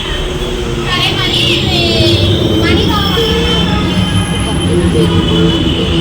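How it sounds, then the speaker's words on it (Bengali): A metro train at a station in Hyderabad rumbles loudly close by, with high, wavering wheel squeals rising over the steady roar throughout. "এটা মেট্রো স্টেশন, এরকম মেট্রো আসবে"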